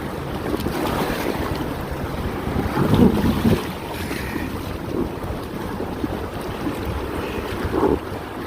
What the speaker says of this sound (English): A nice little rapid section I forgot about here